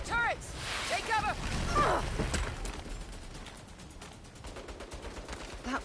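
Turret gunfire in the Saints Row video game: rapid, crackling bursts that build over several seconds while voices shout over the opening and the action.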